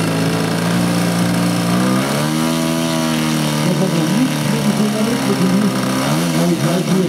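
Model airplane driven by a 111 cc DLE boxer engine, its loud buzzing drone steady and close, the pitch dropping then climbing again as the throttle shifts.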